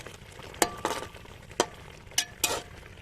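Chicken sizzling and being stirred in a pan with yogurt, being fried down for a special chicken recipe; a few sharp scraping stirs and brief bursts of sizzle over a quiet, steady background, with no talking.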